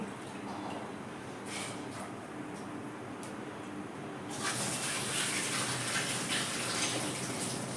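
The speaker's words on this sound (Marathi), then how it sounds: "पाणी पण मस्त गरम झालंय टाकून देते मी आणि डाळ पण पाण्यात पाच दहा मिनटं भिजू" Hot water is poured over soaking lentils, dal for puran: after a few seconds of quiet room noise with light clinks, a steady splashing pour starts and continues to the end.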